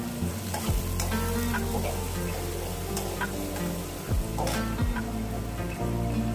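Banana stem stir-frying in a pan with chopped green chilli for a traditional Bengali vegetarian dish, a steady loud sizzle with stirring scrapes throughout.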